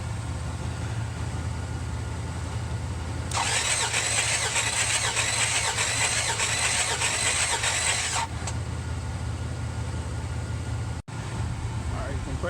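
A 1966 Buick Riviera GS engine with a crank-no-start fault cranks over during a compression test, giving a steady, rhythmic starter churn for about five seconds amid constant workshop noise.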